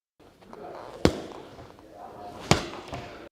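Hooks to the body are caught on tucked elbows during boxing defence practice, two sharp, close thuds about one and a half seconds apart, with softer shuffling and a faint third impact between them.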